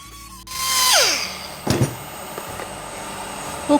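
A power sander grinds 40 grit sandpaper against metal parts of a vintage 1900s Drummond lathe, one loud whining burst that winds down, followed by brief scraping contact and quieter rattles.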